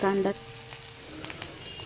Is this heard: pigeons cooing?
no